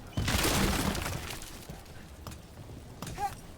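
A wooden crate splinters and breaks apart with a loud crash in Dragon Age: The Veilguard, followed by scattered lighter clatters of falling debris fading out.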